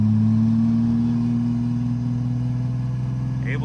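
A 3rd gen Cummins diesel truck with compound turbos, towing a trailer, cruises along with a steady low engine drone and faint rumble, close and continuous.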